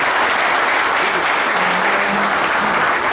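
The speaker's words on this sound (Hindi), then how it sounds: "जोरदार तालियों से स्वागत" Loud, dense applause of welcome fills the space continuously at a union wage-agreement meeting in Mandideep, steady throughout with faint voices underneath.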